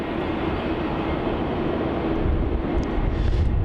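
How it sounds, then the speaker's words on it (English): A Virgin Australia airliner, flight VA96 from Denpasar, comes in to land at Melbourne Airport with a steady, broad engine roar heard from a distance, swelling slightly toward the end. "Landing here, we have Virgin Australia flight VA96 coming in from Denpasar"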